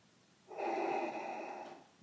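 Sound effect for a sleeping bantha, a single long breathy snore-like snort lasting about a second, fairly close and alone against quiet.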